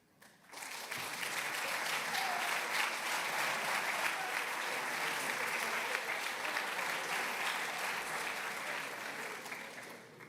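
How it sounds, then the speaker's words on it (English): A graduation ceremony audience breaks into applause, rising sharply from quiet into a thick, sustained roar of clapping that holds for nearly ten seconds before tapering a little. "I appreciate the applause"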